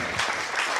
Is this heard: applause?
yes